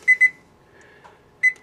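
An oven's control panel gives sharp electronic beeps as buttons are pressed: two quick chirps close together, a pause, then one more, each clear and close.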